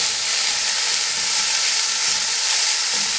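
Macaroni with vegetables and boiled peas fries in a pan with a steady, bright sizzle and hiss, close and constant throughout, no voices.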